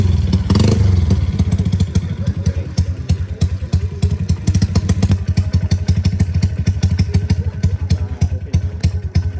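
A motorcycle with a 57mm bore engine and 28 carburetor runs close by, a loud rapid chugging beat with clattering pulses, opening with a brief rev before settling into a steady lumpy idle.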